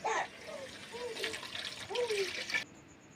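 Water poured into a pan while making rava upma, a steady splashing pour lasting a couple of seconds that cuts off abruptly, with some kitchen clatter around it.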